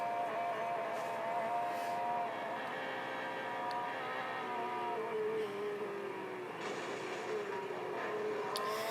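Race car engines roar continuously in the Real Racing 3 mobile game during a Le Mans Legends Ferrari event, a steady droning whine with shifting pitch as cars accelerate and pass.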